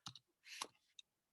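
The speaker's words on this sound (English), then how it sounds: "I'm typing this in the chat box so you guys have it" Typing on a computer keyboard into a chat box produces a few faint, sparse clicks separated by quiet gaps.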